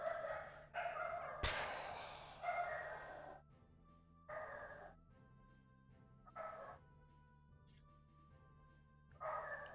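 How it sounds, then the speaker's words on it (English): A pet dog barks in short, separate bursts indoors, about six barks spread over several seconds with quiet gaps, fairly close, while a faint low hum runs underneath. "I don't know what he's barking about"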